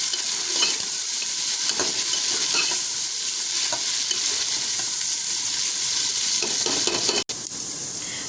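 Onions fry in a karahi for beef keema with a loud, even sizzle close by, a spoon scraping now and then and a brief cut near the end, no voices.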